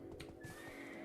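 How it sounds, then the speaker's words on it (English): A horse whinnies once in the Black Desert Online game world, a short mid-range neigh over steady game ambience and a faint sustained tone. "there's a horse."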